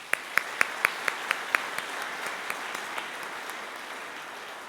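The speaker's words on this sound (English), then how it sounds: "Please join me in giving them a well-earned round of applause" Applause from an audience for board members at a school athletics hall of fame ceremony, opening with sharp, distinct claps that fade into a softer, thinning patter over a few seconds.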